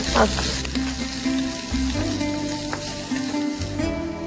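Chopped garlic and onion sauté in a hot pan for spinach rolls, giving a steady close sizzle and crackle throughout with no talk.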